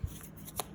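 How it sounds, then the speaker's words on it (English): A brief riffle of a tarot deck being shuffled, a couple of soft flicks and a snap, quiet and close with no speech. "see how it shuffles"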